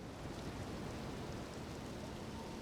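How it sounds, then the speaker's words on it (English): Rainfall in the video game Elden Ring, a dense, even broadband hiss of steady rain that holds unchanged throughout, with no voices over it. "Both in-game and out-of-game, it's raining."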